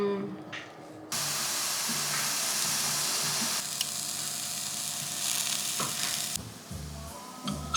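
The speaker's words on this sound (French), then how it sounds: "Je prépare du beurre d'ail" Garlic butter sizzling in a pan, a steady close hiss of frying with a few stirring scrapes and clinks, the sizzle briefly dropping near the end.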